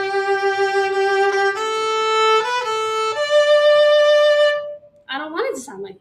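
Violin playing sustained notes with an unwanted wavering vibrato, a few long tones close and clear for about five seconds before a short vocal sound at the end.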